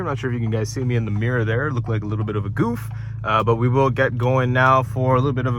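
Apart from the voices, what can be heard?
No everyday noise stands out behind the speech.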